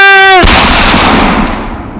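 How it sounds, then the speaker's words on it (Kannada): A single sharp gunshot cracks loudly after a brief rising tone, its echo decaying over the next second and a half. "ಗುಂಡು ಹಾರಿಸಿ"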